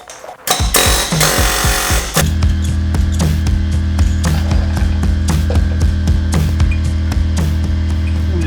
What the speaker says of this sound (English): Fire and an air hammer.